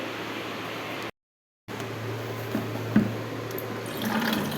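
Water runs from a tap to fill a container, a steady close rushing flow broken by a short silent gap, then continuing with a slight rise at the end.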